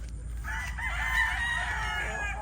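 A rooster crows once in a long, drawn-out call lasting about two seconds, fairly close and clear over a low rumbling background.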